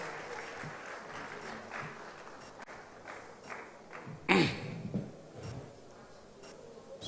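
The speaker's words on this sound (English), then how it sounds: "Please, round of applause." Faint, thin applause rises from the audience at an Abuja event on presidential grants and loans for small businesses, welcoming the FRS chairman, with one louder thump midway and scattered claps around it.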